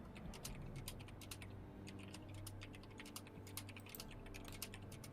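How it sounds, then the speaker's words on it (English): Rapid keystrokes clatter on a computer keyboard in an irregular, steady stream, close and fairly quiet, with no talking. "I hear typing"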